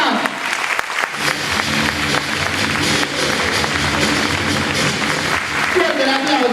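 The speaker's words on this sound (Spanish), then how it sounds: "Fuerte el aplauso para este gran artista," Audience applause for the performer Pablo Febas at a 2015 drag show at a fishing club in San Clemente, steady clapping throughout with music and voices mixed underneath.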